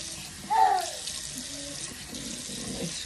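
Running tap water splashing into a sink while someone rinses their face after a natural skin care routine, a steady close hiss with a brief louder splash near the start, no talk.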